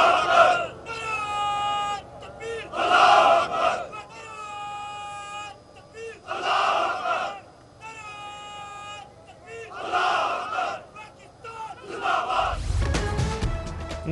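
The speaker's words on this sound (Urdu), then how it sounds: "پاک فوج کے جوانوں نے اللہ اکبر اور پاکستان زندہ باد کے فلک شگاف نعرے لگائے۔" Pakistan Army soldiers at a salute ceremony chant Allahu Akbar in loud group shouts, rising in bursts about every two seconds with brief pauses between, ending in a burst of wind-like rumble.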